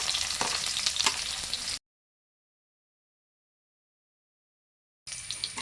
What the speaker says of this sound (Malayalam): ഇനി നമുക്ക് ഇതിനകത്തേക്ക് ആവശ്യത്തിനുള്ള എണ്ണ ഒഴിച്ചു കൊടുക്കാം. നമ്മൾ ആവശ്യത്തിനുള്ള എണ്ണ ഒഴിച്ചു കൊടുത്തു. ഇഞ്ചി, വെളുത്തുള്ളി അരിഞ്ഞത് ഇട്ട് കൊടുക്കാം.